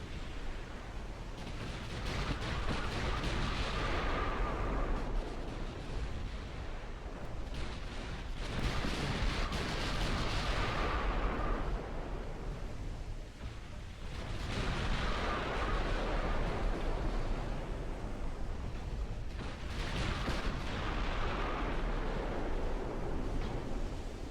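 Naval gunfire from the warship battle game Ultimate Admiral Dreadnoughts comes as heavy, rolling booms that swell and fade in long broadband waves, several salvos roughly every five seconds over a continuous roar.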